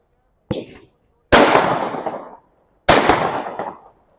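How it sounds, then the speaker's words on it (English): Firecrackers set off at a youth football league matchday in Mumbai: one short pop, then two loud, sharp blasts with long crackling decays, each standing clearly alone. "I'm sorry for those who are getting disturbed by the firecrackers"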